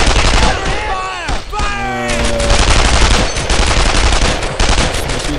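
Dense gunfire in the World War II shooter Brothers In Arms: Earned in Blood, loud continuous rattling fusillades and machine-gun bursts under shouted voices.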